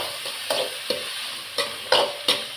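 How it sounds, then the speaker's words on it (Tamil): Tomato being sautéed in leftover oil from frying cauliflower, a constant close sizzle punctuated by about six rhythmic stirring scrapes of a spoon in the pan, with no voices. "வதக்கிக்கிறேன்."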